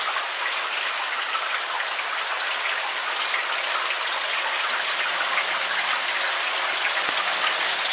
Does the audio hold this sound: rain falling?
yes